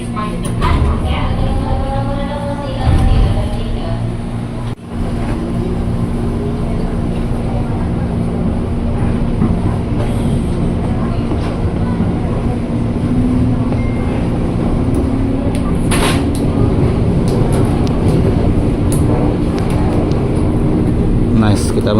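A KRL Commuter Line electric train runs on the elevated line toward Jakarta Kota, with a steady rumble and rattle heard from inside the car, a brief clunk partway through and a faint high whine, while people talk over it.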